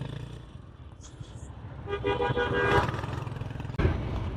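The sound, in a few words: traffic jam with honking horns in Dhaka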